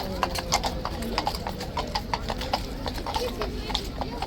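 Horse hooves clip-clop on hard ground at Horse Guards, a steady run of sharp, close strikes with a horse's whinny; people talk over the sound.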